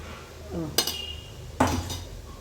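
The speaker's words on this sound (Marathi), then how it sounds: "आता आपण जो हा ताजा मसाला बनवून ठेवला आहे तो फक्त 1 चमचा मी इथे टाकून घेत आहे." A spoon knocks twice against a pan while fresh masala goes into hot oil, two sharp metallic clinks about a second apart over a faint background sizzle.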